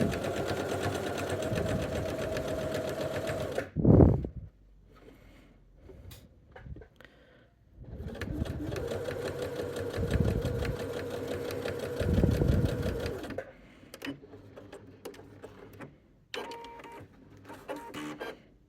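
A Britannia T190/120 sewing machine sews a straight quilting guide line in two long runs of steady humming and clicking, with a pause and some fabric handling between them. Shorter runs follow near the end.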